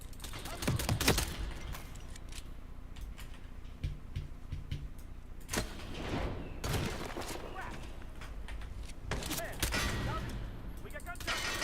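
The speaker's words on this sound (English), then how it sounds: "we got gunshot." Video game gunfire crackles in repeated sharp bursts and scattered single shots, fairly loud against a steady game background, while a person talks at times.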